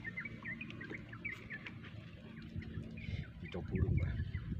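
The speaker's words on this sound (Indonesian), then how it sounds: "Kicau burung juga saling bersautan." Several birds chirp and call back and forth outdoors in clear sunny weather near Surabaya, short bright tweets scattered over a low background hum, moderately distant, with some faint low murmuring underneath.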